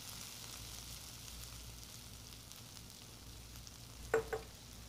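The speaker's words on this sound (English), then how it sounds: "We start by sautéing a good amount of ground beef along with a chopped onion until it's browned." Ground beef and chopped onion sauté in a pan with a soft, steady, faint sizzle and a low background hum, broken near the end by a couple of brief utensil knocks.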